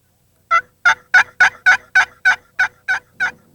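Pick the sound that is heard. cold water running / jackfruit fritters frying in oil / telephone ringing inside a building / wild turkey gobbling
wild turkey gobbling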